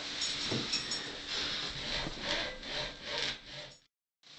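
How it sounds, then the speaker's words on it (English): A hacksaw cuts through a plastic water line in steady back-and-forth strokes, a close, rasping sawing rhythm of about eight passes that stops abruptly near the end, with no talk. "go ahead and cut the line somewhere in the middle would be fine, using your hacksaw"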